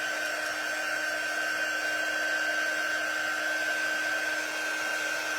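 A hair dryer runs steadily and close at full blast to dry a craft project, a constant even whoosh with no pauses or talk over it.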